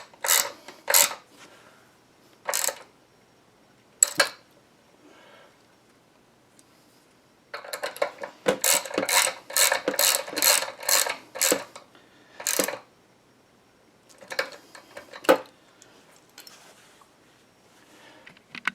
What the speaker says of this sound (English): And then we can tighten the pinch bolts.